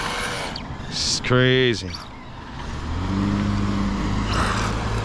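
Tamiya TT02 RC car with a Ford Mustang GT body on a drifting setup, its tires spinning with a steady whirring buzz that swells near the end, following a short spoken remark.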